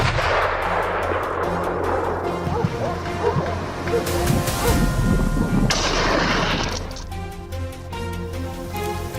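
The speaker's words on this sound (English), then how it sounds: "We chased and shot down a few more wild boars." Gunfire during a wild boar hunt on thin ice, with sharp reports echoing across open ground, heavy rumbling noise, and what sounds like dogs or voices mixed in through the busy outdoor scene.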